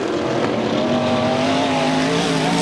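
Modified stock cars race around a dirt oval in a steady, continuous engine roar that holds at a loud, even level with no voices on top.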